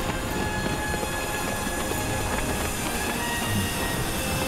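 Train in the shooter game Battlefield Bad Company 2, a dense, constant roar of rolling carriages and wheels with a faint tonal whine, loud and unbroken, no talk.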